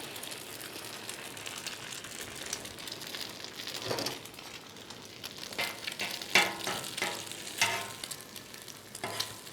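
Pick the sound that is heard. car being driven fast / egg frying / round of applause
egg frying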